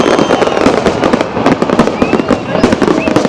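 New Year fireworks bursting in rapid succession, dense crackling pops and booms layered over crowd noise, loud and continuous with whistling trails rising between the blasts.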